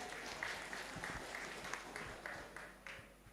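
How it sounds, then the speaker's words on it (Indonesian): Audience applause at a political alumni gathering in Bandung, a faint burst of clapping from a crowd heard from a distance, fading gradually toward the end. "kita berikan aplaus juga"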